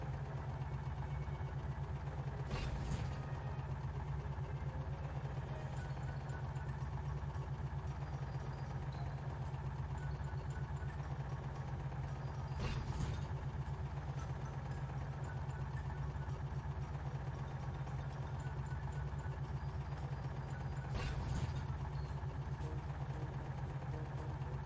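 A tractor engine from the PC game Three from Prostokvashino runs steadily at a constant low drone, a faint, even hum with no changes in pace, broken only by three brief soft ticks spaced across roughly twenty-five seconds.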